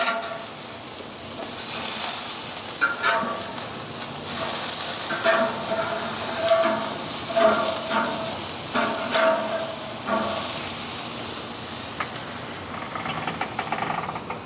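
Burgers sizzle on a Primo Kamado grill as a steady broadband hiss, with small pops and crackles rising over it now and then, close and continuous with no talk.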